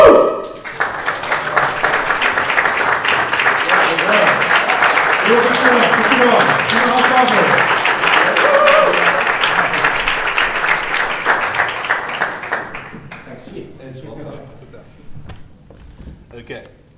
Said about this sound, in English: Give a massive round of applause for none other than Edge.